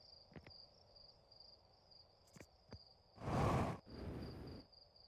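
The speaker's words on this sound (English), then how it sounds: "Ah, the beautiful sound of crickets." Crickets chirp in a steady high trill within the video game Outer Wilds, a soft continuous background chorus broken by a couple of faint clicks and two louder whooshing bursts.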